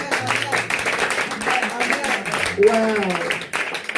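Congregation at a church service clapping and applauding, a steady wash of many hands under a loud voice speaking throughout.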